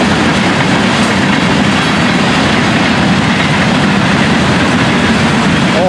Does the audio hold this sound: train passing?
yes